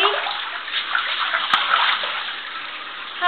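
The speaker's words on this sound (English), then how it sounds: "having a bath by yourself." A child splashes in a filled bathtub, the water sloshing and spattering steadily and close by, with one sharp knock partway through.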